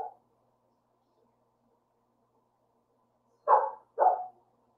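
Dog barking: a short bark at the start, then after a silent gap two more close, moderately loud barks in quick succession.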